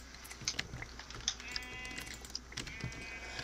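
Sheep bleat in the video game Minecraft, a few short faint bleats over soft keyboard typing and low background hiss, with no talking.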